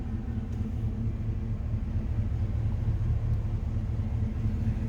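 A 283 V8 in a 1963 Chevrolet Nova convertible runs at a steady idle, a continuous low rumble that stays even and moderately close for the whole stretch, with no talk over it.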